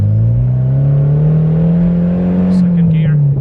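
A Honda S2000 with a titanium exhaust accelerates loudly from close by, its engine note rising steadily in a smooth, continuous pull, with a brief voice over it near the end.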